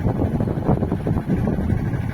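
Steady wind buffeting a sailboat in about 10 knots of northerly breeze, a continuous low rumbling roar against the microphone with no talking.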